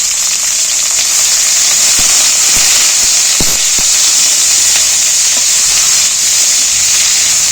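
Potatoes fry in a pan with green chillies and onion, a loud, steady sizzle and hiss running the whole way with a few sharp crackles and pops, no talking.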